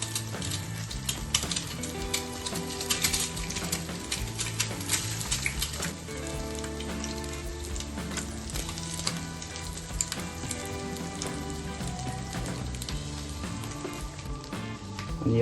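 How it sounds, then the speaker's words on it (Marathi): Egg slices frying in oil in a pan, a steady close sizzle and crackle running throughout, with faint clinks and stirring noises over the top. "आता हे अंड्याचे जे स्लाइस आहे त्याला आपल्याला फ्राय करून घ्यायचे."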